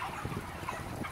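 Faint, low murmuring calls from 35-day-old broiler chickens crowded in a poultry house with six ventilation fans running, a soft continuous flock chatter with no talking.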